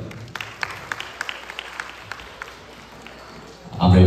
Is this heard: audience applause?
yes